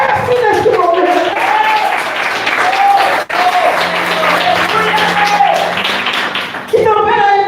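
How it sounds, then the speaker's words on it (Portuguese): Clapping from a church congregation during worship, fairly close and uneven, with voices and some singing or calls mixed through it. "aplauda o mestre neste momento"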